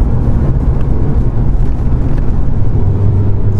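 Steady low engine drone from a Volkswagen Passat W8 with a ZF 5HP19 Tiptronic automatic gearbox, heard from inside the moving car: a smooth, continuous hum that stays loud and even throughout, with no voices.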